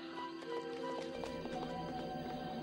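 Cartoon clip-clop of a scaly, long-tongued horse-like creature galloping in a steady rhythm, mixed with background music.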